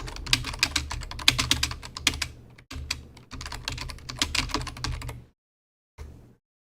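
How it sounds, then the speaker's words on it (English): Rapid clattering keystrokes on a computer keyboard, close and continuous in bursts with short pauses, then a final brief flurry before going quiet. "I'm going to type in a question here."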